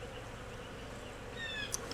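Package bees buzz steadily in a soft, continuous hum while being released, faint and distant, with no voices.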